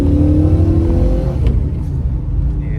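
A 1995 Holden VS SS Commodore V8 revs loud and close, with a deep rumbling engine note that rises and then settles back.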